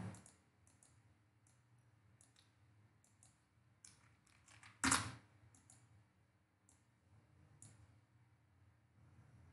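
Soft, irregular clicks of typing on a computer keyboard while entering names into an Excel spreadsheet, faint and close, with one brief louder clack in the middle.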